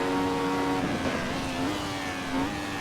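A Formula 1 car in a racing video game, running flat out in top fifth gear with a steady, high, whining engine note held loud and close for the whole stretch.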